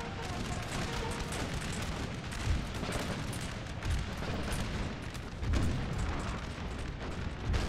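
Canister-firing cannons in Napoleonic: Total War keep up a dense, continuous rumble of gunfire, scattered louder blasts breaking through the steady din.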